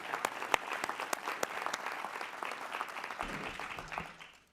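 An audience at an engineering industry partners lunch gives a panel a round of applause, with clear individual claps close by that fade out toward the end.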